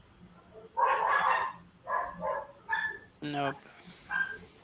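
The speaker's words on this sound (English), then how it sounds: "Those are neighbor dogs. They're very vocal." Several neighboring dogs bark in short loud bursts, one volley after another, some yips sharp and high, with a person speaking briefly among them.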